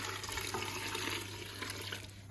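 Liquid pours into a Ninja Foodi pressure-cooker pot in a short, steady, close splashing stream with no talking.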